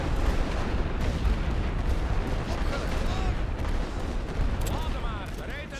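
Rifle and machine-gun fire crackles through a First World War Western Front battle in a strategy game, a dense nonstop barrage of overlapping shots and distant blasts, with a voice talking over it.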